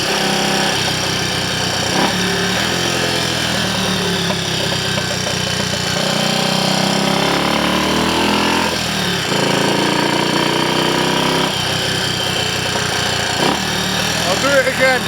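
A Triumph Scrambler Cub replica motorcycle, fitted with a carburettor borrowed from a Trials Cub, runs in third gear on a test ride. Its engine drones loud and steady up close, with brief dips and rises in revs.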